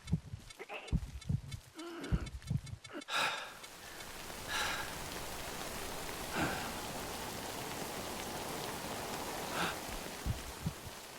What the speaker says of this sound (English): You know it's not going to stop raining either.